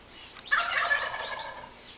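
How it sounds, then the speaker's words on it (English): Wild turkey hen gobbling and clucking outdoors on a spring day, a short close burst of calls that trails off into a fainter rough tail. "There's a girl turkey."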